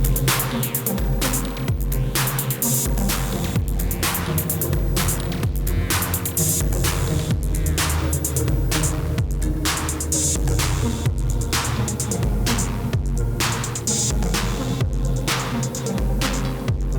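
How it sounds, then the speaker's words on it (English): A low, throbbing drone from a Moog Subharmonicon synthesizer with a long reverb tail, steady and sustained with faint pulsing textures throughout. "We've actually got the Subharmonicon going through these just for a little bit of reverb."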